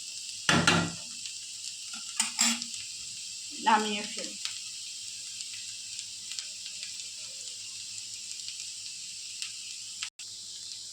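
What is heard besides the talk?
potatoes frying and being stirred in a wok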